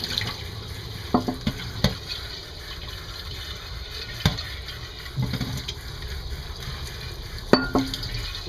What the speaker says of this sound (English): We rinse them well